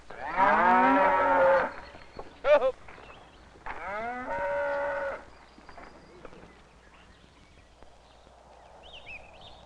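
Long-haired cows mooing, two long, loud lows separated by a pause, with a shorter call and faint farmyard knocks between them, then quieter background noise.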